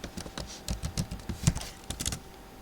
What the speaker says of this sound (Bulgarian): Сега пишем Dark Magician.